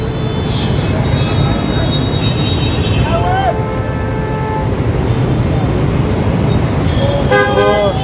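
Heavy road traffic jam in Ludhiana with trucks, autos and cars, engines rumbling steadily while several horns honk, short toots and longer blasts near and far, with a voice talking over the noise.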